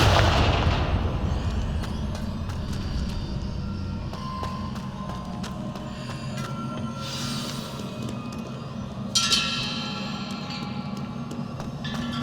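Confringo fire spell blast in Hogwarts Legacy, a booming impact at the start that decays into a rumbling tail, with sharp crackling bursts and bright clatter later against a low game ambience.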